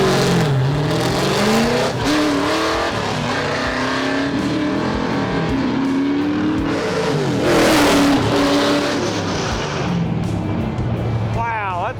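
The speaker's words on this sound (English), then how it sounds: "A little bit of a burnout." A 632 big block OBS truck roars through a burnout at a drag strip, its engine revving hard and rising and falling in pitch over a long continuous blast, loud and close, with a voice heard faintly underneath.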